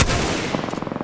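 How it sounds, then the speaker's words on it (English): A Mastiff shotgun fires in a video game firefight, a loud blast followed by a rapid run of sharp, evenly spaced reports close up. "Shots fired at me."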